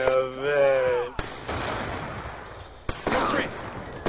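A flashbang grenade goes off in Call of Duty Black Ops 2 during a Search and Destroy match, two sharp loud bangs each trailing into a ringing, hissing wash after a brief voice.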